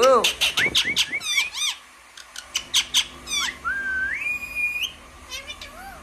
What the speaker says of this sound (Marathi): बघा पोपट दादांचा कसा बोलतो ना